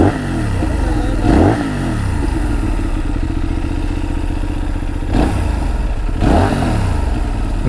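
A twin-cylinder motorcycle engine idles with a lumpy, throbbing beat close by, broken by two pairs of sharp throttle blips that rise and fall quickly, with no talk over it.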